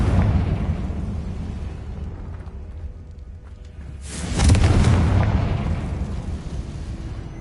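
A Confringo spell explodes in the Hogwarts Legacy video game inside a tomb, a loud rushing boom that swells midway over a rumbling background.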